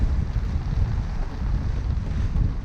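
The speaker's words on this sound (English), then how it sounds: "So it is a bit blowy, and you wouldn't want to get caught up on these rocks." Strong wind buffets a Bavaria 41 sailboat at sea off the rocky coast of Bømlo, a continuous loud low rumble of gusts across the microphone with no voices.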